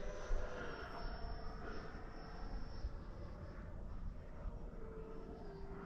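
Avanti S v2 RC jet running on a 6S 10,000 mAh battery, a steady, fairly distant ducted-fan whine that holds constant while the model flies a pass, with no talk.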